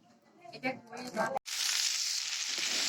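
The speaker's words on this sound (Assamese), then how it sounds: "এতিয়া মই গুটি আলু 2টামানকৈ কাটি ভাজিকণ বহাই দিছোঁ" Talk and handling noises give way to a loud, steady sizzle of food hitting hot oil in a pan, close and continuous.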